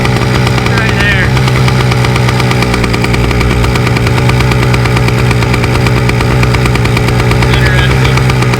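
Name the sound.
Yamaha PW80 dirt bike engine idling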